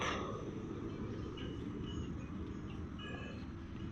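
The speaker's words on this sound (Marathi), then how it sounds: "गाड्या जातात ट्रेन जाते" A steady low rumble of a train rolling past, continuous and fairly loud throughout, with faint squeals riding on top.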